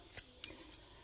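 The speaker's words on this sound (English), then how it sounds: "I'm literally just trimming that corner off" Scissors trimming the corner of a sewn fabric piece just above the stitching, heard as a few short, quiet snips close by with no talk.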